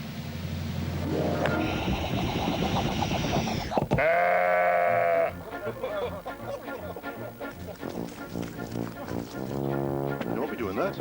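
Sheep on a golf course giving several long, loud wavering bleats one after another, close by, with voices talking in between.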